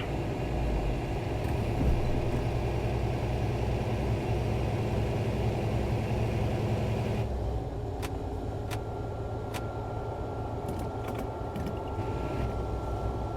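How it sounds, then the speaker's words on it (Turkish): Car accelerating downhill on an alpine road heard from inside the cabin, a steady engine and road hum with a few sharp clicks and ticks in the later part. "Yükünle basmasıyla şimdi gayet seri şekilde hızlanacaktır."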